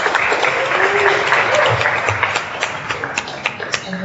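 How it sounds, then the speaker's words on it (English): An audience at a software testing tech talk applauds, loud and dense at first, then thinning into scattered individual claps. "Can we please give Rudy a round of applause?"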